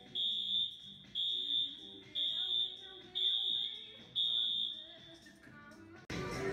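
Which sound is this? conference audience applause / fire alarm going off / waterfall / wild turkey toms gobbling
fire alarm going off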